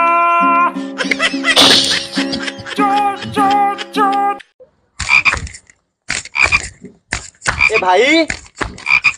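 Cartoonish frog croaks used as a comedy sound effect, a run of rapid rhythmic croaks up close, then after a brief pause, bursts of talk and laughter-like vocal sounds in Odia.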